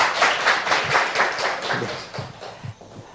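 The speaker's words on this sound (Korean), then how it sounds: "큰 박수 부탁드리겠습니다" Scattered clapping from a church lecture audience, a smaller group whose individual claps are audible in uneven bursts that thin out toward the end.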